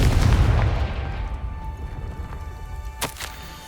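A fiery blast spell goes off in the Hogwarts Legacy video game, a loud deep boom that rolls and decays over a few seconds, followed by a short sharp crack near the end.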